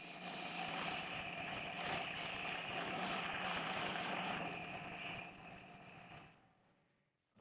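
A lathe turns a new wooden handle for a 1930s French Peugeot hand-cranked coffee grinder, giving a steady, close whirring hiss with a faint tonal whine that fades away near the end.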